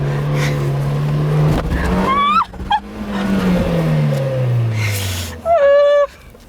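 A Suzuki Jimny climbs a tall off-road hill with momentum, its engine revving up and down loudly, joined by sharp whining squeals near the middle and again toward the end.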